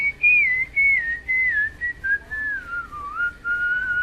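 A man whistles a wandering, tuneful melody of sliding notes, close and clear against a quiet background, as a sound effect in a Spanish-language radio drama.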